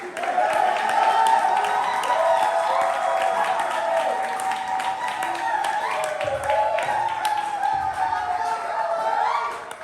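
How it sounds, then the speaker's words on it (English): Sustained audience applause at a poetry slam rings out for the first poet, loud, dense clapping with some cheering holding steady throughout. "keep that applause going for our first poet in the slam, Soleil"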